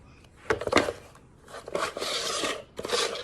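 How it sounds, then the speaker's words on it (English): A gamma screw-top lid is twisted loose on a 5-gallon food-grade plastic bucket, producing close scraping, rasping turns in a few short bursts. "I can just unscrew it instead of always having to mess with the popping the lid"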